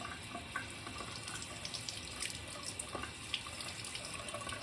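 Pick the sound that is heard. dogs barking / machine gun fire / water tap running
water tap running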